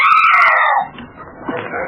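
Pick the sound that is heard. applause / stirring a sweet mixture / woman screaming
woman screaming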